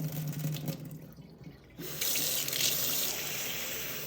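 Running tap water pours into a bowl of soaking rice being rinsed for lamb biryani, starting as a soft trickle and then surging into a steady, close gush that fills the bowl, with no talking.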